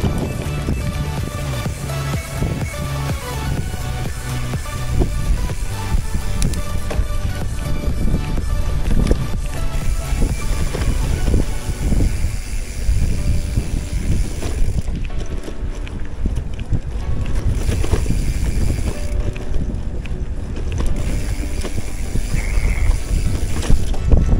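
Strong wind buffeting the microphone on a ride to Laiban Falls in Tanay, Rizal, a continuous loud roaring rush with gusty swells throughout, under a steady rumble of movement.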